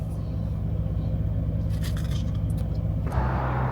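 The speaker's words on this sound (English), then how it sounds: "There goes the Waldo fire truck." Fire truck from Waldo, a small Wisconsin town, rolls past with a steady low engine rumble and road noise that swells briefly with a hiss near the end, heard alone without voices.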